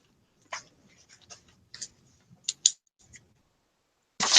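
A pen scratches out notes in short, faint, quiet strokes with pauses in between, close to the microphone, in an otherwise silent room, followed by a louder rustle at the end.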